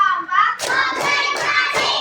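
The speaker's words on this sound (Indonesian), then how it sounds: "Biar tambah semangat, kita tepuk 1, 2, 3." Children in a classroom clap their hands in rhythm, making about four loud, sharp claps in quick succession after a brief vocal sound at the start.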